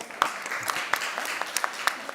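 A panel audience at a main-stage event gives a short round of applause for a panelist, light and fairly quiet, with scattered individual claps standing out from a soft wash of hands.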